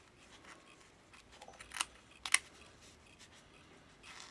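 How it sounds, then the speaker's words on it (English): Scissors snip through sari fabric between two rows of stitches, giving a few short, quiet crisp cuts spaced irregularly against a near-silent background. "cut in between those 2 rows of stitches all the way up like that"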